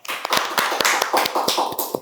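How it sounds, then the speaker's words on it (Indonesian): A small group claps by hand for a math teacher in a school setting, a quick run of close, sharp, fairly even claps lasting about two seconds. "Tepuk tangan dong."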